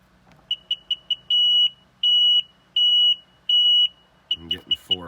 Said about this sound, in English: I'm getting 4 fast beeps.